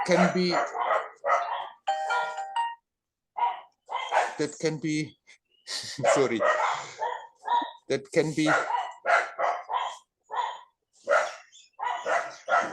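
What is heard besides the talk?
dog barking outside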